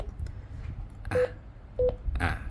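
Two short electronic roger beeps from an Icom IC-811 Plus mobile radio transceiver sound about half a second apart amid faint background noise and brief rustles.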